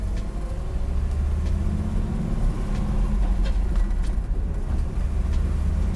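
A 1967 Chevrolet Camaro RS/SS cruising on a road, its engine giving a steady low rumble beneath broadband tire and road noise, continuous and fairly close throughout with no talking.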